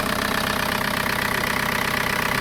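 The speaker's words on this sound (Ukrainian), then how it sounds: "я особисто чую, що двигун почав набагато культурніше працювати" A cold car engine idles at raised revs after repairs that removed the alternator and compressor to cure squeaks and knocks, a loud, steady, close mechanical drone with a fine rhythmic pulse and no talking.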